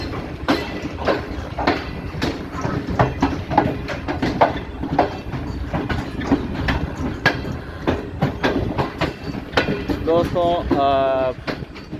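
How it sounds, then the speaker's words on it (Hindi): A train pulls away from platform 3 at Multan railway station, wheels clacking in a steady rhythm of rail joints, with someone talking over it and a brief squeal of wheels near the end. "प्लेटफॉर्म नंबर 3 से ट्रेन निकल रही है"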